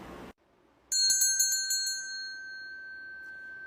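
A huge bell struck once after a brief silence, ringing out loud and bright, then sustaining a long, slowly fading tone with no talk over it.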